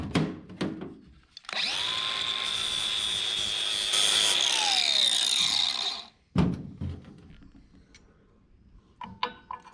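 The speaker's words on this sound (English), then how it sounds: "You just gotta take a grinder and just grind it down a little bit." An angle grinder takes material off a hydraulic top link for a Kioti CK3510SE tractor. It gives a high, steady metallic whine for about four and a half seconds, set between brief clanks and handling noises.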